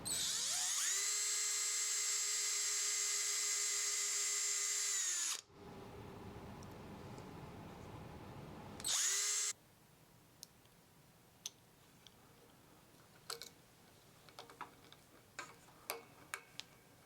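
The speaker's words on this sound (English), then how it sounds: "I'll drill some pilot holes for those screws" A power drill whines steadily for several seconds drilling pilot holes in a wooden bass guitar headstock, stops, then gives a second run and a short final burst, followed by quiet scattered clicks and taps.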